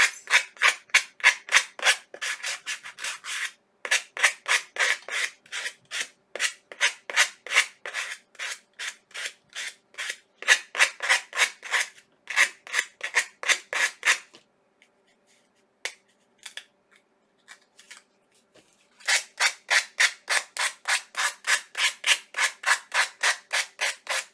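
An abrasive tool or sanding block rasps back and forth in rapid, even strokes, loud and close, in long runs that stop for a few seconds near the middle and then start again.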